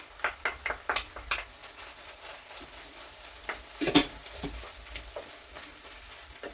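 Chopped onion going into a hot pan and starting to fry, a few sharp knocks and stirring scrapes at first, then a steady soft sizzle with a louder stir burst midway, close and without talk.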